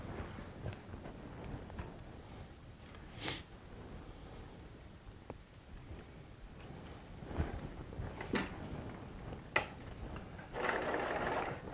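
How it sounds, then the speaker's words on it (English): A sewing machine runs a continuous, fairly quiet hum and patter while sewing quarter-inch seams joining Tula Pink charm and strip quilt blocks, with occasional soft knocks and fabric handling over it. "just doing my 1/4 inch seam and setting my blocks together"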